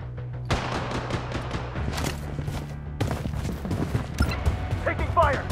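Bursts of rifle fire in the Blood Strike shooter game, including an AK47, crack out in quick repeated volleys with thuds and footsteps between them, and game voice callouts come through over the shooting.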